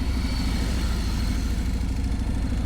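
A motorcycle engine held at low revs in the friction zone, a steady, dense mid-pitched drone that stays constant and close throughout, with no voices.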